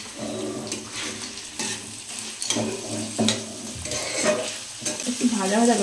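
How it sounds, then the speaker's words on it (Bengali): Rice is stirred in a frying pan while cooking for nolen gur payesh (date-palm jaggery rice pudding). A spoon scrapes and swishes in repeated strokes over a steady sizzle, close and moderately loud. "চলো বাবা, আমি একটু ভালো করে নাড়িয়ে দিই এবারে"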